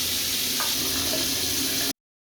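Water runs in a kitchen sink, recorded close up as a steady rushing spatter with a small knock partway through, then it cuts to silence.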